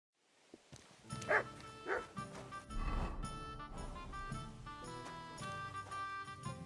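A dog barks a few times in the medieval world of Kingdom Come: Deliverance 2, short sharp woofs near the start over a bed of ambient game sound and music.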